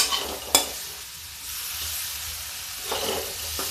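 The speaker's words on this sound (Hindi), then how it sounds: "भून लीजिए।" Vegetables crackle and hiss in a frying pan, a continuous close sizzle broken by a sharp clink of a utensil early on and scraping stirs near the end.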